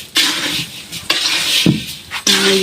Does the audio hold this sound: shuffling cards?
no